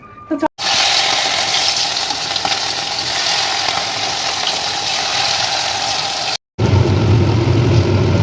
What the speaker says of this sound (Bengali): এই যে চিংড়ি মাছটা যে মেখে রেখে দিয়েছিলাম প্রায় আধ ঘন্টা হয়ে গেছে এবার আমি এগুলোকে ভেজে নেবো